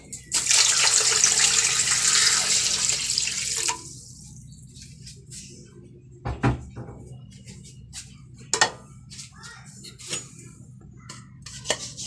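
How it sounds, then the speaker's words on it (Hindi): Four glasses of water pour steadily into a metal cooking pot holding onions and whole garlic for chicken nihari, then stop, followed by a few scattered clinks and light knocks. "चार गिलास पानी डाल देंगे।"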